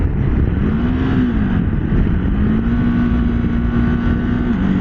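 A Ducati Desert X motorcycle engine droning steadily as it rides, its pitch rising and falling through gear changes, close and continuous under wind noise.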